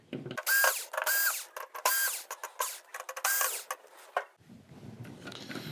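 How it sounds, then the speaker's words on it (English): Corner screws being loosened from the main board of an LG 55UM6910PUC television, heard as repeated close, bright bursts of powered driver whirring and ratcheting with brief pauses between them, then a quieter handling sound at the end. "we can start on the 4 screws on the 4 corners, and we should have this free from the chassis"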